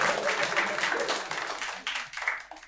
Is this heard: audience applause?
yes